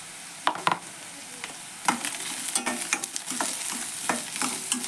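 Grated coconut, peanuts, garlic and coriander frying in oil in a pan, a steady sizzle broken by several sharp clatters of a spoon scraping and stirring, close and alone.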